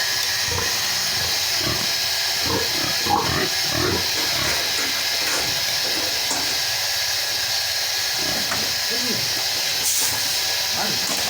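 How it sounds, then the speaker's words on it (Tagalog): Pigs in a pen on a small piggery grunt in short, low, irregular bursts, partly masked by a loud constant hiss running through the whole stretch. "Adukas mga baboy dito."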